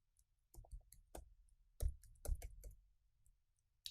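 A computer keyboard is tapped while a passphrase is entered: sparse, irregular key clicks, a few sharper strokes among them, close but quiet, with no voices.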